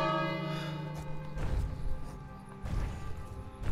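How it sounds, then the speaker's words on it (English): A bell rung in the King's Quest video game, struck with a sharp clang that leaves a long ringing tone, then struck again moments later, close and fairly loud. "ring the bell"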